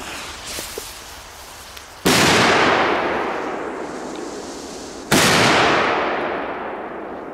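Two Polish firecrackers go off a few seconds apart, each a sharp, very loud bang with a long booming decay and echo, following quieter outdoor noise.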